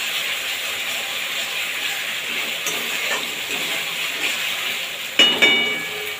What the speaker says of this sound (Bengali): পেঁয়াজ, আদা, রসুনের পেস্টটা দিয়ে দেবো তেলের ওপরে।